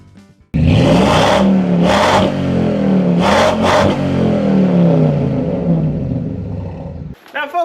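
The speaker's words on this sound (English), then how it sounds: "it's a 1978 Jeep Cherokee Chief. It's got a 360 AMC, Turbo 400, and an all-wheel drive T-case" A 1978 Jeep Cherokee Chief with an AMC 360 engine, Turbo 400 transmission and all-wheel-drive transfer case roars loudly up close, its revs climbing and falling in repeated acceleration sweeps before cutting off near the end.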